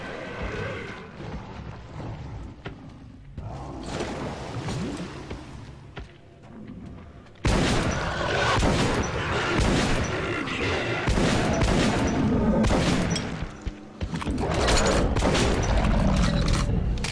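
Shotgun blasts in Metro Last Light, mixed into a dense, busy firefight with repeated loud bursts and clanking mechanical noise, growing heavier and louder in the second half.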